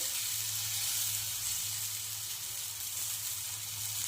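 Potato pancake batter sizzles in oil on a nonstick pan, a soft, even, continuous hiss with a low steady hum beneath it and no talk.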